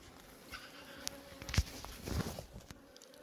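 A captured swarm of honey bees hums faintly outdoors, a quiet, thin insect buzz with a few soft knocks and rustles rising briefly near the middle.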